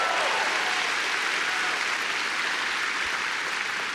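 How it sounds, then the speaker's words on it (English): Audience applause at a Star Wars Celebration live stage event: a dense, steady wash of clapping from a large crowd, loud and continuous throughout with no voices above it. "yes, please, round of applause for that"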